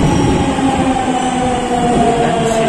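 Inside a Delhi Metro train car, a loud steady rumble of the moving train fills the space, with a constant low drone and faint humming tones and no voices.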